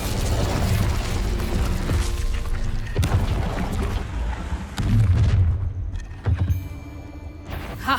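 A fire spell cast in Hogwarts Legacy, a loud whooshing, booming burst of flame with heavy rumble that holds for several seconds, then breaks into a few sharper impacts and crackles before easing off.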